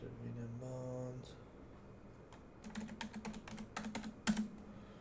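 Computer keyboard typing in a brief burst of close key clicks, preceded by a steady electronic tone; a quiet voice is heard near the start.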